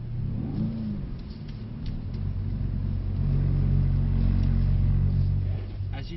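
A Mercedes C63s engine drones and rises in revs during drift practice, a steady, mid-distance rumble swelling toward the middle and easing off at the end.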